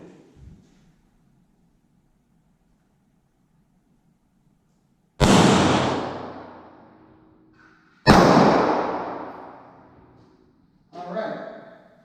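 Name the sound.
9mm pistol shot fired into ballistic gel block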